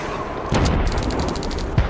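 Rifle fire at teddy-bear targets on a shooting range in Call of Duty 2, two loud close shots each with a sharp crack and a booming reverberant tail.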